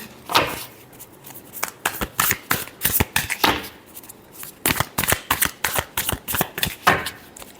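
Tarot cards are shuffled by hand in a quick series of sharp, riffling bursts, close and crisp, with brief pauses between runs.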